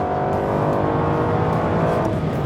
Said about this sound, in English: quite a nice blip on the downshift